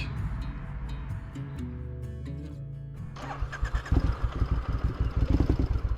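A Triumph Bonneville motorcycle engine with an unreliable restart cranks and struggles, then catches into loud, rhythmic, uneven running close by.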